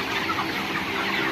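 A flock of roughly 30-day-old chickens on a poultry farm, clucking and murmuring in a steady, dense chorus that fills the whole moment with no voice over it.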